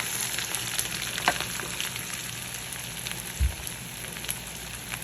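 Peppers and garlic sauté in a hot pan with a steady, close crackling sizzle, broken by a few light stirring clicks and one brief low thump.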